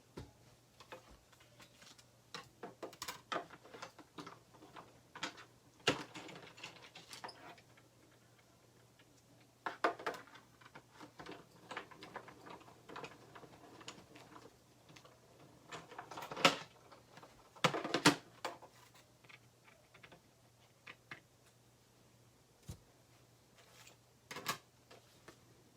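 A hand-cranked Stampin' Up Cut & Emboss machine cuts a small star die from cardstock, giving faint, scattered ticks and clicks over a quiet background.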